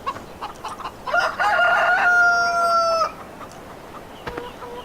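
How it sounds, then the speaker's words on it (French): Chickens in the farming video game Farming Simulator 15: a loud rooster crow rings out over scattered clucks, with a steady outdoor ambience underneath. "il y a deux poules qui sont en train de manger"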